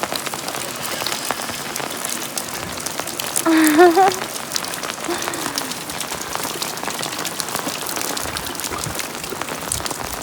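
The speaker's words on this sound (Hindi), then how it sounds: "और अभी बहुत ज़्यादा बारिश लगी हुई है" Heavy rain falls steadily in a village, a dense hiss of drops on surfaces that continues throughout, with a brief voice or bird-like call rising faintly over it midway.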